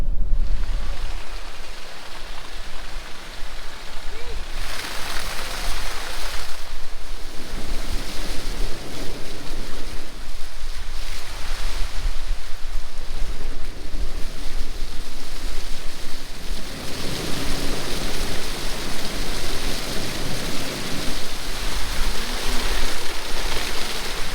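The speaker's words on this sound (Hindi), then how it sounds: "भाई झरना है सामने, कोशिश करते हैं उसमें डालते हैं।" Waterfall water pours onto a Scorpio N SUV parked beneath the falls on a mountain road in Kinnaur, a loud, constant broadband rush and splatter that continues steadily throughout without pauses.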